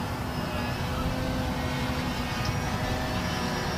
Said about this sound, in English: Just having a great time with this airplane.